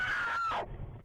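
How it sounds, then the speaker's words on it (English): A woman's panicked scream rings out briefly at close range, a strained high wail that breaks off abruptly, captured in a car on a silent freeway late at night. "And then heart-wrenching screams."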